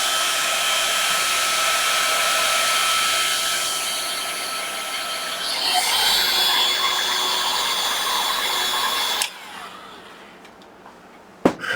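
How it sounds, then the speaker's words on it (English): A heat gun blows steadily on heat shrink tubing over soldered joystick wires, a loud even whooshing hiss that shifts pitch midway, then cuts off abruptly, leaving a quiet room with a faint click at the end. "I don't know about your heat gun."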